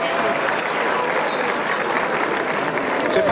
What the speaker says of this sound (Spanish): ¡Aplauso para estos tres competidores!